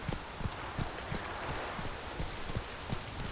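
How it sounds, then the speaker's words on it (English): Steady rain falls in The Witcher 3, a soft continuous hiss with faint, evenly spaced taps or steps under it. No talk is heard. "I love the rain effects in this game."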